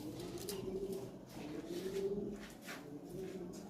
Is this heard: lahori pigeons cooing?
yes